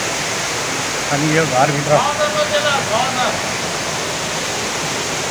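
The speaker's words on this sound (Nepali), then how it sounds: "यो चाहिँ बिचको खोला हो टिस्टा बजारको" The Teesta river flows through the middle of Teesta Bazaar, making a steady broadband rush of water. Someone talks over it for a few seconds.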